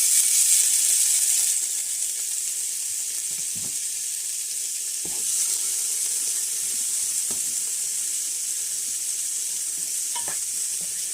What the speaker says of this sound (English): So now I'm going to fry the sweet corn.